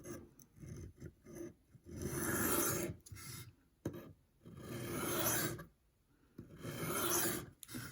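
A $550 Chris Reeve knife drawn across a $50 sharpening system, giving repeated rasping strokes in uneven bursts, each a second or two long, separated by short pauses, close and clear.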